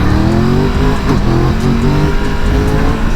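A Triumph Tiger 1200 motorcycle engine revs in first gear with a loud, steady, close-up drone that runs unbroken throughout and rises and wavers slightly.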